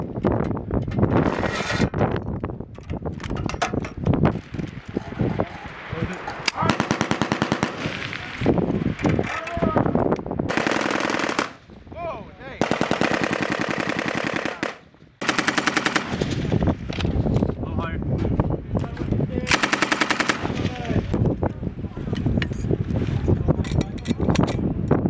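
M240B machine guns fire repeated loud bursts on a range with Mk 19 grenade launchers nearby, the rapid volleys split by short pauses, with some wind noise and faint voices in between.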